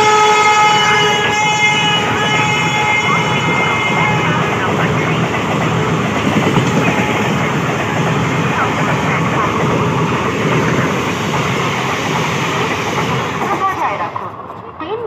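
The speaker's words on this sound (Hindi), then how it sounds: "through train will be passing from platform number 3" A through train passing a station platform, a loud sustained roar of wheels and carriages with horn tones running throughout, fading near the end while a platform announcement plays.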